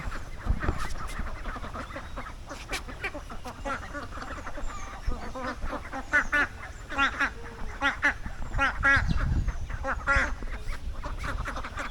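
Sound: white ducks on water

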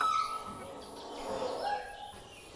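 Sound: myna birds calling

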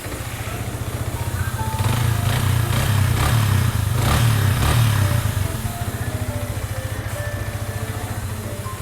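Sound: Yamaha YZF R15 motorcycle engine running

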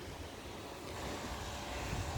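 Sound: sea waves at a beach

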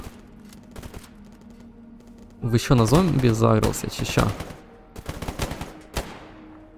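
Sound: gunfire in video game S.T.A.L.K.E.R. GAMMA

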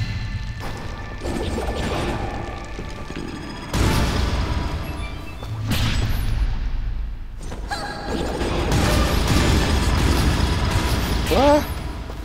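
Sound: explosions going off in the video game Dust: An Elysian Tale

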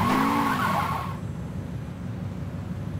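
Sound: car driving and skidding in video game

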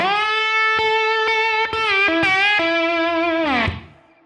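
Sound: slide guitar lick

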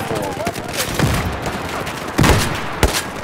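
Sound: gunfire in the Battlefield 4 video game

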